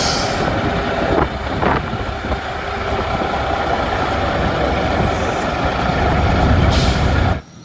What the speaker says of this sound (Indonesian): Ada truk pengangkut tentara.